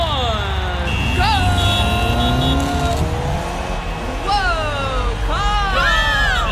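Cartoon car engine revving and zooming off at the start of a race among a car, bus and bicycle, loud and busy under excited children's and narrator's voices shouting along.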